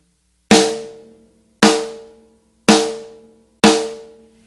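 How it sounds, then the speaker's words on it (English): Four evenly spaced snare drum rim shots, each striking the rim and drum head together, giving a sharp, loud crack with a quick ringing decay, played alone and close. "let's say you rim shot here with hitting the rim as well as hitting the drum head"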